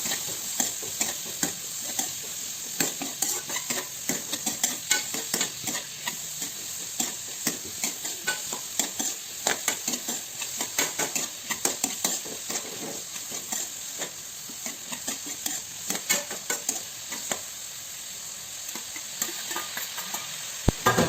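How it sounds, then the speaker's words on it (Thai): Onion and garlic stir-fry in a pan for spaghetti tomato sauce: a steady hiss of sizzling oil under a continual run of close, rhythmic scraping stirs, with no talking. "ก็เลยใส่ผัดไปพร้อมกับกระเทียมได้เลย"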